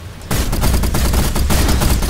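Sniper and other gunfire in a vehicle-building combat video game, a dense loud barrage of rapid overlapping shots, sharp repeated bursts running continuously with no talk.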